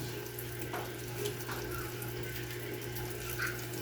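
A steady, quiet stream of running water pours continuously into dog food against a faint background hum, with no voices.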